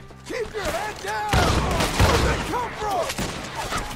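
Gunfire in Red Dead Redemption 2 story mode, a burst of several shots and booms in a firefight with game voices shouting over it.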